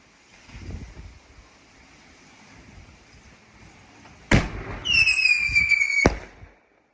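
A homemade whistling Bouncing Betty firework set off outdoors on a reusable base: a sharp loud bang, then a shrill rising whistle lasting about a second before a second crack, with faint rustling beforehand.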